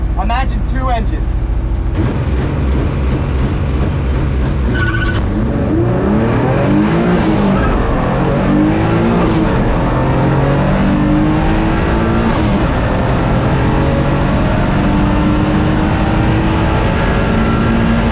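A boosted drag car running 25 psi on pump fuel makes a full-throttle pass at 114 mph, engine roaring loud and continuous with rising pitch through gear changes, a speaker talking over the din.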